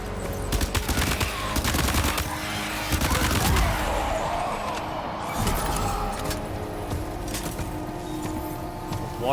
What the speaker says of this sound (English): Warrior assault rifle.